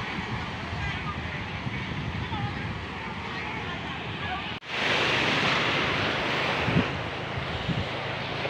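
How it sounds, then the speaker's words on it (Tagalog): Strong sea surf and gusting wind roar steadily at a Philippine shoreline, with broadband wash and a louder surge partway through; people talk over the noise. "Malakas ang alon."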